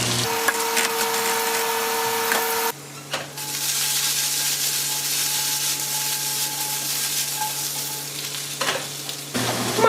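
Diced potatoes fry in a pan with very little oil for a breakfast with mushroom gravy. A steady, close sizzle continues throughout, with a brief break near the start and a shift in tone partway through.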